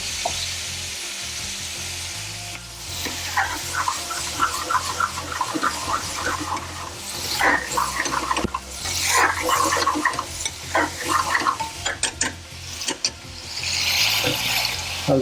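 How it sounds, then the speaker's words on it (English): Base gravy poured into a pan of frying spices for a BIR chicken bhuna, a loud close sizzle that flares up as the liquid lands, with busy stirring and scraping and no talking. "Just going to add a tiny amount of base gravy to loosen things up."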